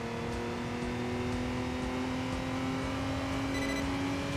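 Steady engine drone of a tuned van in the Enthusia Professional Racing driving game, a continuous in-game exhaust note that hums and whines smoothly at a constant level throughout, with no talking.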